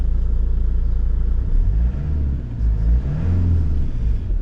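A Land Rover engine starts up and settles into a deep, steady idle, a loud low rumble with slight rises in revs, close by and with no talking.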